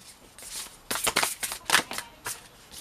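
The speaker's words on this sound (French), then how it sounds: "On va prendre deux dernières cartes." Tarot cards are shuffled and drawn, making quick papery riffles and flicks in a burst of several close, crisp strokes in the middle of a short quiet stretch, with no talking.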